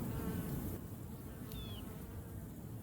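Honey bees buzz in a low, steady, close drone over a brood frame lifted from a hive, with one brief higher whine passing through.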